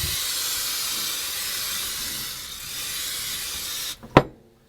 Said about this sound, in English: Always Pam your dish. Cooking spray, very important.